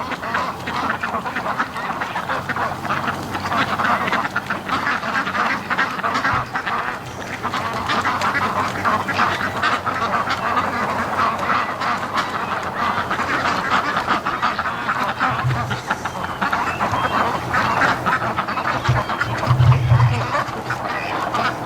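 Constant quacking from a group of ducks close by, many overlapping calls, with a few low thumps near the end.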